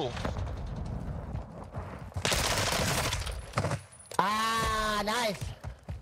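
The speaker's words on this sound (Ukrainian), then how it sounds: "мені здається, хтось здалека стріляв" Gunfire in the game Call of Duty Modern Warfare II, DMZ mode, with bursts of shots and a loud broadband crack around the middle, mixed with game effects and a harmonic tone near the end; players talk throughout.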